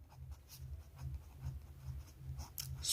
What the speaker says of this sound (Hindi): इसलिए यहाँ लिखते हैं